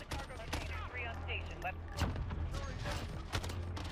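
Bursts of FAMAS rifle fire in Call of Duty Modern Warfare, sharp repeated shots over game effects, with a voice talking through most of the clip.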